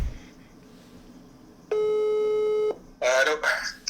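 A single long telephone ringback tone sounds while a call is being placed, steady and clear for about a second, followed by someone speaking in French.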